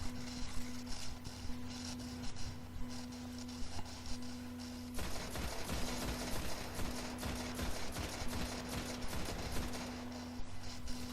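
Sustained rapid gunfire pours into an enemy's glowing yellow weak spot in Destiny, a dense, continuous rattle of shots that intensifies midway, with mechanical clatter and a steady tone beneath.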